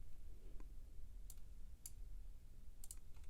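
Mouse clicks in Ableton Live 12 software, a few sharp, faint taps spaced irregularly over a low steady hum.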